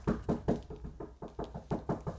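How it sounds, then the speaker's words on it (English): Someone knocks on a door about ten times in a quick, even rhythm, with close, solid raps and no talking. "Knocking in, Bendy."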